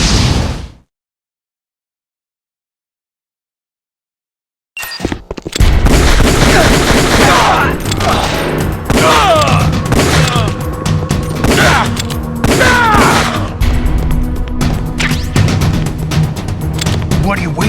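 Gunfire in the Metal Gear Solid: The Twin Snakes video game, a loud run of dense shots and bursts after a brief silence, mixed with game sounds.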